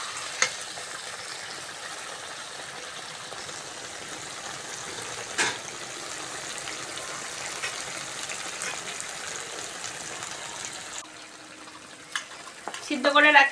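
Boiled jackfruit frying in oil-rich spice paste in a pan, a steady hiss with occasional stirring scrapes, going quieter near the end before a brief clatter.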